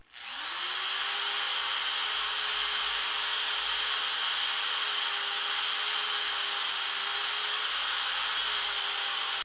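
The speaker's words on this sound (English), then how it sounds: "Now we're going to finish it up with the fine wheel." A power drill spins a fine cleaning wheel against metal, starting up and holding a steady, high-pitched whine with an even grinding hiss for several seconds before cutting off.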